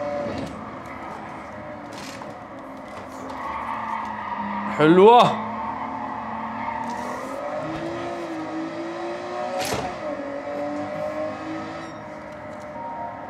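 A 1990s car in Gran Turismo 7 drives with a steady engine drone, rising into a brief sharp tire skid partway through, while someone talks over it.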